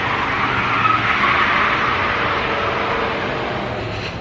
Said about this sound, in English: Brad ripping a burnout